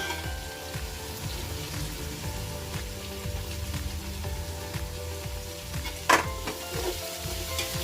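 Chicken dum biryani with fresh mint leaves is stirred in a pan, giving a steady close sizzle and frying crackle with repeated scraping stirs and one sharper clank near the end, with no talking.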